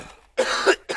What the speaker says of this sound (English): Excuse my well, coughing.